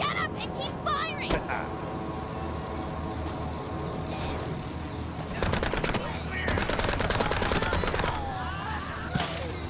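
Rapid automatic gunfire from the PC game Mouse: P.I. for Hire, long rattling bursts crackling close and loud over a steady game backdrop, with brief single shots scattered between.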